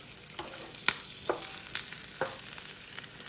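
A keto chicken quesadilla fries in a pan, a faint, soft sizzle broken by scattered crackles and light scraping taps.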